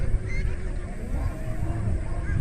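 A crowded flock of ducks on a duck farm keeps up a dense, steady chorus of honking and quacking, continuous and fairly loud, over a noisy outdoor background.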